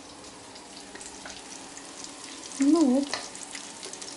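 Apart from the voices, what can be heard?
fish frying in a pan on low heat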